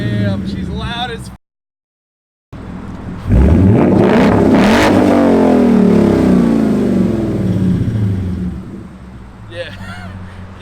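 A 2015-2017 Mustang GT fitted with FlowMaster Outlaw axle-back exhaust revs hard and loud up close, with a burst of rising engine roar after a brief gap, settling into a sustained rumble, with people chatting around it.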